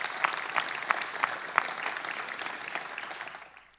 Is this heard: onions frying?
no